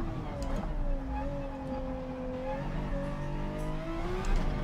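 A race car engine in Gran Turismo 7 drones with a steady, rising tonal pitch, shifting gear partway through, loud and continuous with no talk over it.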